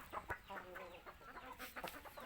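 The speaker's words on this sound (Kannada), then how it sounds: "ಫೋರ್ ಮಂತ್ಸ್ ಕೋಳಿ ಇದು" Four-month-old country chickens cluck softly in a farm setting, a faint, irregular run of short clucks and chatter with no speech.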